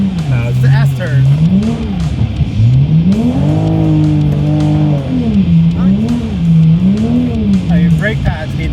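A Toyota Supra is driven hard off-road by a racing driver, its engine revving up and down in wavering surges with brief tire noise, loud and close, and people talking over it.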